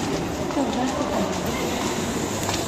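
A Pune metro train rolls along in a steady loud rumble heard from inside the carriage, with a faint rhythmic clatter and some chatter blended into the din.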